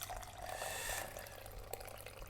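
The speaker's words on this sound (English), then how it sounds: "We want to start by pouring off some of the liquid." Milky soaking liquid poured off soaked cashews in a kitchen: a soft, continuous trickling pour that swells briefly and then tapers, with a small splash near the end and no talking.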